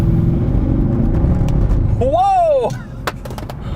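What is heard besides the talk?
Mercedes CLK63 Black Series floored, traction control jumping, phone knocked off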